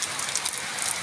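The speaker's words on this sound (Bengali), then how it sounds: "আজ ভোরটা ঘুম থেকে উঠে দেখি প্রচণ্ড বৃষ্টি হচ্ছে।" Heavy rain falling in a hilly area during an early morning downpour, heard as a continuous fine hiss of drops lasting the whole brief span, fairly faint and even.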